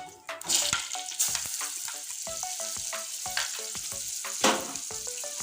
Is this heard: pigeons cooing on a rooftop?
no